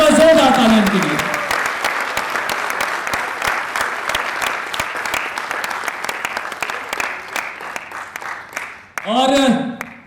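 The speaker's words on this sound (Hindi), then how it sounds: "एक बार जोरदार तालियां के लिए।" Audience at a music festival in Bihar claps loudly for a singer and music director, a dense, steady ovation that follows a voice at the start, thins slightly toward the end, then gives way to speech.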